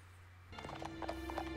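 Horse hooves clip-clop in a steady, close rhythm during a scene from HBO's Rome set in ancient Rome, with a low hum beneath and no talking.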